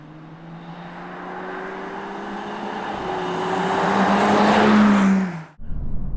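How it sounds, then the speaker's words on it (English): An Aston Martin Vanquish V12 engine roars steadily louder and rises in pitch as the car accelerates on the road, then drops off abruptly as it eases back. "here we are on the road in the Aston Martin Vanquish"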